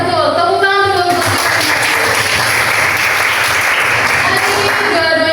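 Classroom students break into loud, dense applause after a lesson on cactus plants, a sustained close wash of many clapping hands, with talk briefly at the start and end.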